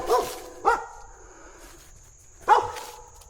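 A female dog barks three sharp times, two close together and then one after a pause, at moderate distance over a low steady background hum.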